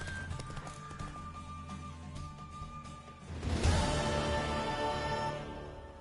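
A mare's hooves clip-clop in a dramatic scene, a rhythmic patter that swells louder midway as the horse seems to pick up pace, set against a musical backdrop with no speech.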